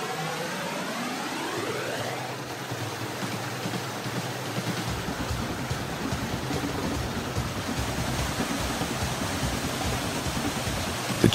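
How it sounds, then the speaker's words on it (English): The Chorrera del Diablo waterfall, a 25-meter fall of crystal clear cold water, rushes as a steady broadband roar throughout, with a faint rising whistle near the start. "A waterfall of crystal clear cold water comes from the tundra"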